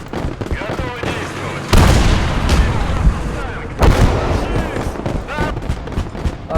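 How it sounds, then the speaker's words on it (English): In a Southern Front war video game battle, heavy artillery fire booms out in two loud blasts, each followed by a rolling rumble, amid continuous chaotic battlefield noise and background voices. "Okay, artillery."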